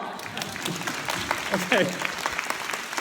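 Audience applause at an entrepreneurs' gathering in Japan, a steady patter of clapping lasting a few seconds while a voice speaks briefly over it.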